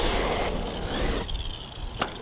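An HPI Jumpshot MT Flux RC monster truck on a 2S pack, its electric motor giving a steady close whine that pitches up and down as it drives, with a brief sharp knock near the end.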